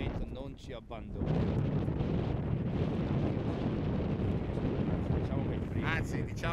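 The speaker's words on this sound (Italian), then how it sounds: "Vento, non ci abbandona." Strong wind buffets the microphone on a river, a dense, roaring rush that builds after the first second and holds steady, with a voice briefly heard at the start and again near the end.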